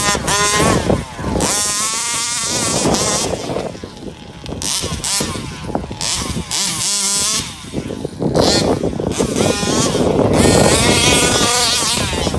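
A 34cc Rovan gas-engine RC car with 2153 gears and all-terrain tires runs in a backyard, its two-stroke engine buzzing loud and near, revving up and down in bursts with brief dips.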